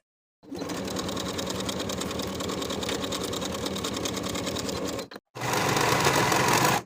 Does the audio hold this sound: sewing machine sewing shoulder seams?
yes